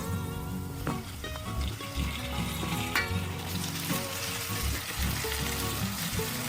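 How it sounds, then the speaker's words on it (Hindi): Green chilies and onion fry in hot oil for a pea chutney, a close, steady sizzle with occasional clinks and stirring scrapes. "अब हरी मिर्च को भी प्याज के साथ फ्राई करेंगे।"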